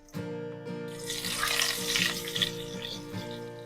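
Cumin, white sesame seeds and green chili fry in peanut oil for farali muthiya, making a steady, fairly loud crackling sizzle that sets in after a brief quiet moment and continues under tonal background music.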